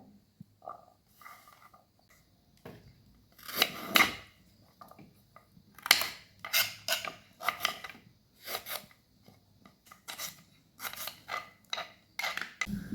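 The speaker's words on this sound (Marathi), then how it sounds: "या प्रकारे आपल्याला सर्व गाजर कापून घ्यायचं आहे" Carrots chopped into pieces with a knife on a board: sparse cuts at first, then a steadier run of close, crisp strokes.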